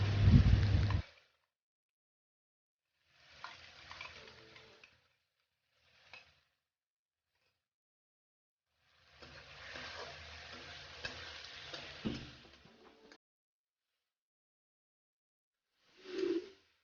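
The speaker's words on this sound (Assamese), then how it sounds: "মছলাখিনি ধুনীয়াকৈ ফ্ৰাই কৰি লোৱাৰ পিছত মই এতিয়া পেষ্ট কৰি লোৱা আমখিনি ইয়াতে দি দিলোঁ।" Raw mango paste frying with spices in a pan makes quiet bursts of sizzling and stirring. The bursts are separated by silent pauses, and a longer stretch of frying sits in the middle.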